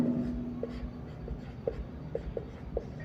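Pen strokes on paper while working a physics numerical problem, with a run of light scratchy marks and several short taps at irregular intervals, close and fairly quiet over low room noise.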